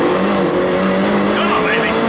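Road-legal R56 Mini Challenge with a 280 bhp engine accelerating hard on a country road, with a loud, continuous engine roar heard from inside the cabin that climbs steadily in pitch.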